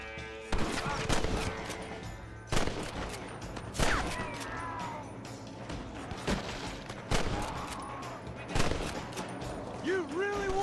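Gunfire in Red Dead Redemption cracks out as sharp, spaced single shots, about eight over the stretch, with ringing echoes and a voice speaking between them.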